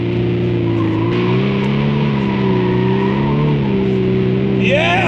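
A VW Mk8 Golf R in drift mode, its engine holding a loud, steady drone with shifting pitch as the tyres spin, ending in a rising squeal near the close.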